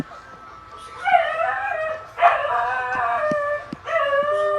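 A dog at a house construction site howls and whimpers in long, wavering, loud cries with brief breaks, close to the listener and with no one speaking.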